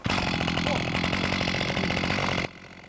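A chainsaw runs loud and close while felling trees in a forest, its steady high-revving engine snarl holding for over two seconds before cutting off abruptly near the end.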